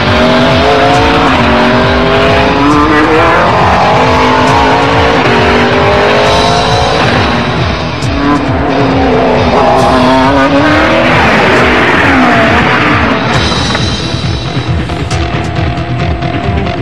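Race cars roar loudly in a street-racing film scene, engines revving and pitching up and down continuously with tire squeals, sustained and close with no talk.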